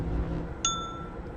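A single bell chime in the Myst video game, struck once and ringing with a clear, bright tone that fades over less than a second above a low background hum.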